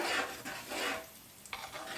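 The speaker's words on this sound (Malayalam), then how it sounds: "ഇനി ഞാൻ ഈ മിക്സ്ചർ നമ്മുടെ കറിയിലേക്ക് ഇട്ട് കൊടുക്കുകയാണ്." A vegetable mixture tipped into a thickened, simmering mixed vegetable curry in a pot and stirred: wet scraping and sloshing swirls with a faint sizzle, close and moderately loud, ending in a brief clink.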